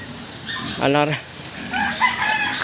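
A rooster crows once, loud and close, amid softer clucking from several chickens in the background on a farm.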